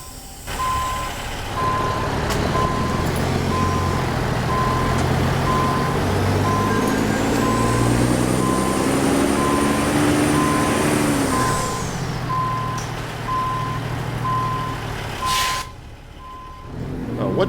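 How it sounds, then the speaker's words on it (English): A heavy truck in American Truck Simulator reverses onto a road, its steady reversing beeps repeating evenly over a loud diesel engine drone that rises and falls, with an air brake hiss near the end. "I'm just backing up into the road hoping that no traffic is coming."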